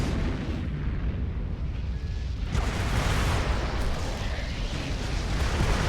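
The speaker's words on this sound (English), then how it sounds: "And explosion on us." Explosion in the mech combat game Mechwarrior Living Legends, a loud sustained rumbling blast with a sharp burst midway, dense with game battle noise.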